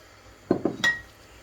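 A metal baking tray for lasagna is handled and greased in a home kitchen, giving two close clanks followed by a brief ringing metallic clink, then quiet.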